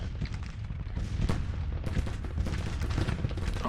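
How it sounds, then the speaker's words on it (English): Artillery cannons bombard parapets in a Civil War battle in Grand Tactician: The Civil War, a dense continuous rumble of booming shots and crackling gunfire layered together, loud and steady throughout, with no speech. "the enemy seems to be trying to destroy our cannons. I mean, bombarding our parapets here"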